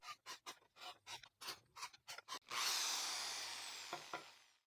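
Rhythmic rasping strokes repeat about a dozen times, then give way to a continuous whirring hand drill with a 2.5mm bit boring into wood that slowly fades, close and fairly quiet.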